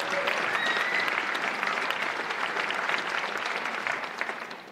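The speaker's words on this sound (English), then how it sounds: "Susan Kaplan, so give Susan a round of applause." Audience applauding at a symphony orchestra holiday pops concert, a dense, even burst of clapping from a large crowd that carries steadily and tapers off at the end.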